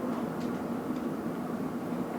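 A London Underground Metropolitan line train runs steadily, heard from on board as a constant low rumble and hum of wheels and motors, unbroken and fairly loud with no voices.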